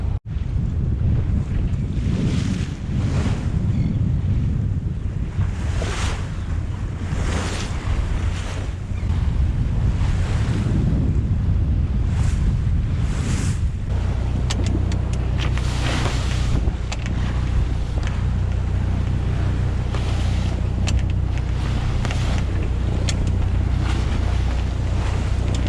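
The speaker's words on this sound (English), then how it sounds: "The current's going out and the wind is pushing against the current" From a sailboat at an inlet leading toward Chesapeake Bay, strong wind roars across the microphone while choppy water slaps and washes steadily against the hull, where an outgoing current runs against the wind, loud and continuous throughout with no talk.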